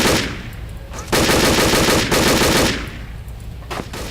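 A machine gun fires in the World War II shooter game Übersoldier 2: loud, close bursts of rapid automatic gunfire, one burst near the start and a longer sustained burst in the middle, with short pauses between them.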